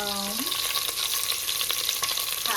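Curry leaves fry with ginger and garlic in hot oil, giving a loud, crackling sizzle close by, broken by bursts of spattering and stirring scrapes and a brief sliding tone at the start.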